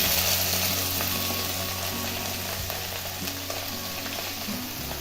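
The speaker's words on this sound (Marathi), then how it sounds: "आता यामध्ये भाजी टाकायची आहे" Pumpkin leaves with chilies hit a hot pan and fry, giving a continuous loud sizzle with faint stirring and scraping underneath.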